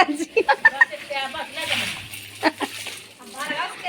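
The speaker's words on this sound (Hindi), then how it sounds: "पानी का प्रेशर ज्यादा आ रहा है दीदी" A village water tap gushes under high pressure into small pots and bottles, producing bursts of splashing and sloshing while someone talks over it.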